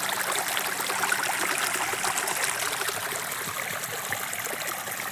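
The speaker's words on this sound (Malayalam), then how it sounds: "തോട്ടിലൂടെ വെള്ളം വീണ് വേറെ പുഴയിലേക്ക്" Water flows down a stream into a river, crossing paddy fields after a flood. It gives a steady, close rushing and gurgling wash that fills the whole clip, with no talk over it.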